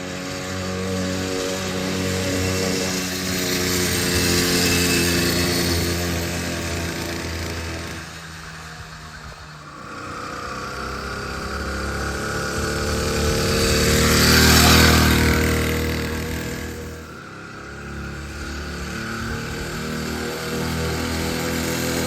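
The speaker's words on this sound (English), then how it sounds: "It's my rendition of a early 1960s Italian motorcycle, small displacement." An early 1960s Italian small-displacement motorcycle engine runs continuously, revving up and down over about twenty seconds with a buzzing, rising and falling tone, passing near and dropping back, with no voices.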